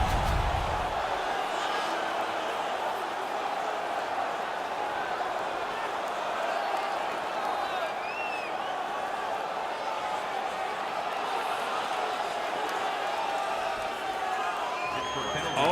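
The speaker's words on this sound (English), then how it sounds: "The crowd is ecstatic." Video game crowd from NHL 19 cheering steadily throughout a hockey game in Pittsburgh after a won fight, a dense continuous roar under commentary-style talk, with a few whistle-like tones rising above it.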